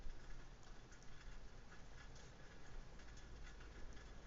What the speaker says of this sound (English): It is raining. It's kind of hitting me on the back porch now.